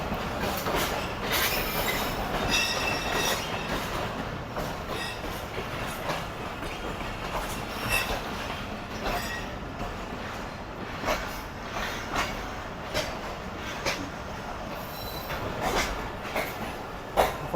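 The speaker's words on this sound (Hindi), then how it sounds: "ये आ गई मिल्लत एक्सप्रेस भी" Millat Express train running on a parallel track at speed, a loud continuous rumble with rhythmic clickety-clack of wheels and occasional squeals, steady throughout.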